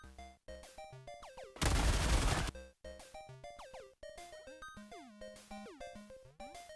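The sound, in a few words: video game gunfire from Liberator Penetrator and Pacifier guns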